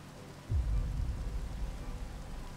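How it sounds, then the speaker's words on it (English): Rain falls in the Minecraft video game, a soft steady wash that swells in after a brief quiet moment and then holds as a low, even rumble with no talking. "Oh, it's raining."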